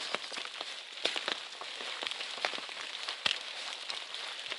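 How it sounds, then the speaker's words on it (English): Light rain patters steadily over a rooty forest trail in the 100 Mile Wilderness, soft dense hiss with scattered sharper drops ticking nearby, quiet and continuous, no voices. "It's still raining, not very hard,"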